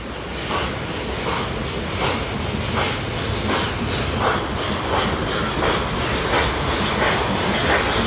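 A steam train passes near Nordhausen, a dense steady roar of hissing steam and rolling wagons with a regular clickety-clack beat of wheels on rail joints, loud and close throughout, with no voices.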